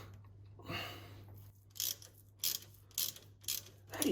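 Ratchet wrench working a very tight differential plug on a 1934 Chevy hot rod ute with a Holden Commodore diff: a series of short, distinct ratcheting bursts at a steady rhythm, close and clear, with no talk.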